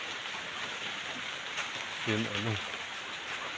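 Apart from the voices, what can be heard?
rain falling on a rainy morning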